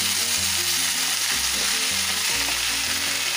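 Mango chutney with cumin and coriander powder being stirred in a pan, a steady bright sizzle with soft rhythmic scraping underneath, close and continuous with no voices.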